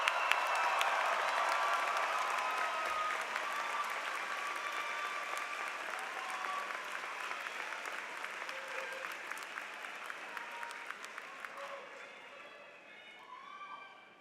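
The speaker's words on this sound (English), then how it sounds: "Graduates, stand up and let the families be applauded." A large commencement audience at a UMBC spring graduation ceremony applauds the graduates' families, with loud sustained clapping that slowly thins and fades toward the end.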